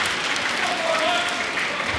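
A table tennis crowd applauds steadily throughout a men's team semi-final between China and England at the 2018 ITTF Team World Cup, a dense continuous wash of clapping with a voice speaking over it.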